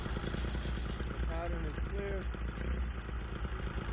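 A paramotor engine runs on the ground before flight with a steady, loud, buzzing drone, and brief faint tonal sounds rise over it partway through.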